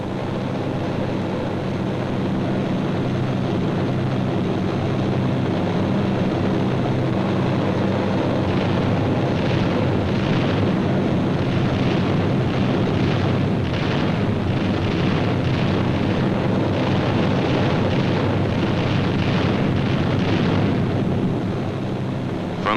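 Bombs from B-25 bombers exploding over gun positions, coastal installations and beach areas in a World War II raid, a dense rumbling roar with bursts of thudding impacts in the middle, steady and loud throughout.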